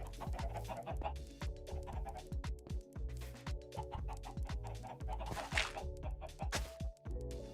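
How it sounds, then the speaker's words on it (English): Chickens clucking in a Minecraft-style survival multiplayer game, many quick overlapping clucks and squawks repeating steadily over a rhythmic background track. "I was wondering why I heard like way more chickens than there actually was"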